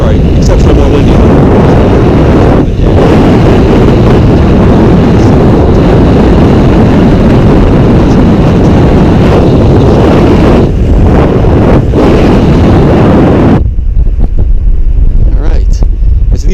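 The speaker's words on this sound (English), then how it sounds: "very windy up here" Powerful wind roars across the upper deck of the cruise ship Navigator of the Seas, a loud continuous buffeting on the microphone that drops away sharply near the end.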